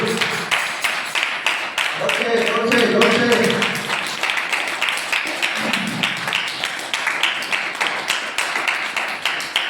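Church congregation at Sunday worship clapping hands in steady rhythmic beats, loud and close, continuing through a preacher speaking in Hindi.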